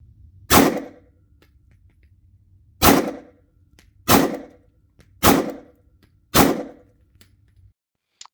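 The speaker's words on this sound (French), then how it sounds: "toujours du 9 mm, mais en manufacturé, qu'on va tester avec le Glock" Glock pistol firing factory-made 9 mm rounds into a ballistic brick bullet trap, five sharp, loud shots spaced about a second apart with brief decays between them, no talking.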